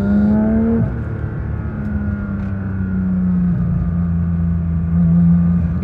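A Porsche 911 GT3 RS on track revs loud and close, its engine note falling sharply after a gear change and then droning steadily with a slight rise toward the end.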